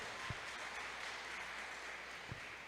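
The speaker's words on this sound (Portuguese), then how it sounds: "Vamos aplaudir ao Senhor pelo agora de Deus" Church congregation applauding together during a sermon, a steady, even wash of clapping that holds at a moderate level throughout with no speech over it.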